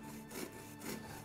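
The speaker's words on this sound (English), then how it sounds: "I'm sawing the edges or corners off of this mummy portrait in order that it will fit into the mummy wrappings." Replica ancient Egyptian hand saw cutting the corners off a wooden Roman-period mummy portrait panel, two soft rasping strokes that are quiet and close.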